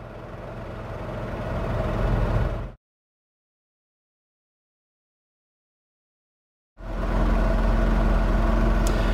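The rear-mounted 1.0-litre three-cylinder engine of a 2018 Smart ForTwo hums at a steady idle close by, cuts to complete silence for several seconds, then resumes at the same even level.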